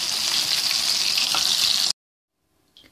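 Crispy chicken frying in oil makes a dense, even sizzle up close for about two seconds, then stops abruptly and leaves near silence with a faint trailing noise.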